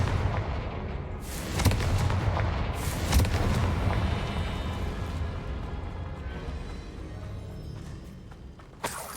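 A Confringo fire spell blasts in a video game: a series of deep booming bursts with sharp crackling onsets, spaced a second or two apart, then a fainter trailing rumble and a last small thud.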